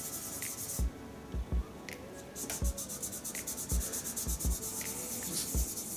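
A clear epoxy resin shaving brush handle is rubbed by hand to buff out a small mark, giving a soft, steady scratchy friction with repeated short strokes and faint taps, close and quiet.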